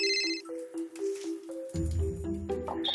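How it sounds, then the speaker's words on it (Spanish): A telephone rings with a bright electronic ringtone, repeated tonal pulses up close, on a celebrity cooking show, then a musical sting and background sounds take over. "El teléfono."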